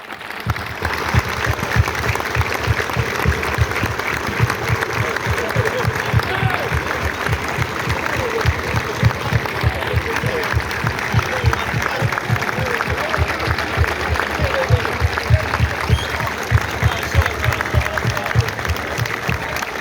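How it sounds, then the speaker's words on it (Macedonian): Sustained applause from a crowd standing for a one-minute tribute at the opening of a memorial football tournament, steady dense clapping throughout with rhythmic low thumps and a loud, continuous crowd wash. "Ве замолувам сите да станеме и да му дадеме еден голем едноминутен аплауз"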